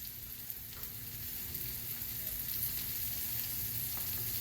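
Burger patties seasoned with black pepper sizzle and fry in a pan, with a steady soft crackle and no one talking.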